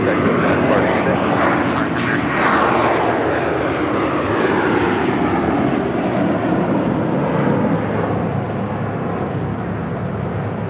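An American Airlines A321neo jet airliner departs LAX with a loud, steady engine roar that holds close and strong throughout, easing slightly toward the end, with a voice speaking over it.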